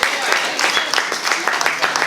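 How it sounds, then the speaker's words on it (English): Crowd at a hip-hop insider session in New York City clapping and cheering, a dense continuous wash of applause with scattered louder claps and voices mixed in, moderately loud throughout. "Y'all can clap it up for that."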